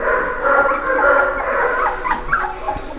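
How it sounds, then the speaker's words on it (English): Several three-week-old red and white puppies whimper and yip together, a busy run of small high cries close by that rises and falls for a few seconds with no talking. "so we have Princess and Bridger's little puppies here"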